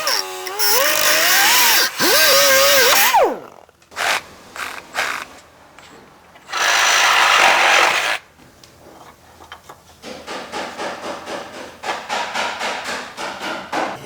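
Power tool cutting through the starter mounting bolts on a 2014 Dodge Journey 3.6, loud whining bursts in two long runs with shorter grinding and clanking contact sounds between them, close and without talk.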